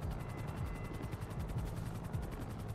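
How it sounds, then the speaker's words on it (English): Helicopter in the GTA video game, a steady rhythmic rotor thump with a low droning hum, moderately loud and continuous with no talking. "Bloody helicopters."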